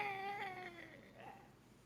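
A cat lets out a single drawn-out yowl whose pitch slides downward, then trails off into a fainter wavering cry, heard alone and fairly close.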